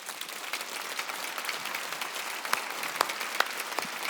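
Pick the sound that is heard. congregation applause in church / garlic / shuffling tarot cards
congregation applause in church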